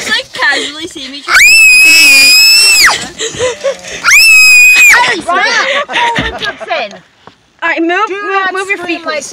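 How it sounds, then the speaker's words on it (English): A person screams in long, loud, high-pitched bursts, two sustained shrieks followed by shorter wavering cries and squeals, close and piercing, with speech-like vocalizing between them. "Do not scream like that again."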